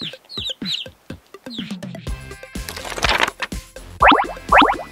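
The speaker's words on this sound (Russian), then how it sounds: "это цыплята" Chicks cheep in quick, high chirps, followed by louder clucking from grown fowl, all near and with no talking.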